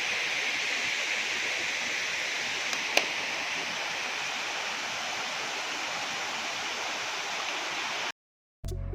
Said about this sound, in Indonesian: air terjun Sedinding Sewawar